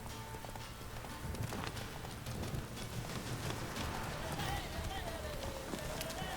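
Roach, the horse in the video game The Witcher 3, gallops in quick, steady hoofbeats under a constant ambient wash, with a voice talking over the run.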